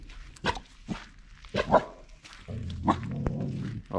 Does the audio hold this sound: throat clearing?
no